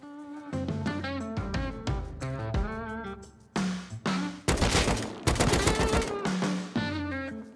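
Automatic gunfire during a base raid in the game Rust: loud bursts of rapid shots and sharp single cracks, some near and some overlapping, with brief gaps between volleys and no talking.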